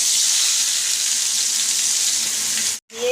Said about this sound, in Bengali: দিয়ে এবার একটু ভাজা ভাজা করে নিই